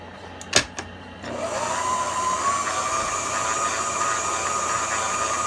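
Stand mixer kneading garlic bread dough, a couple of sharp clatters first, then a steady whirring motor hum that runs on evenly to the end.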